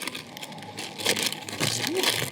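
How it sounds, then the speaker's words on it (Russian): Brief crinkling and rustling of a small plastic instruction bag, close by, in short handled bursts. "Лезем в наш пакетик с инструкцией."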